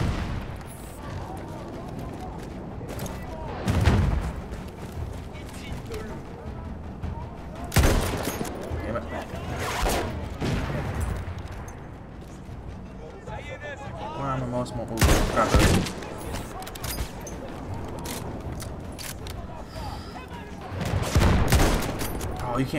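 Battlefield 1 combat: loud, repeated bursts of rifle and machine-gun fire punctuated by heavy booming tank shots, with dense battle noise continuing throughout.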